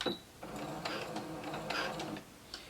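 A sewing machine stitches knit fabric at a seam for a maxi dress, a close mechanical whirr in short bursts with a back stitch, the motor speeding and pausing.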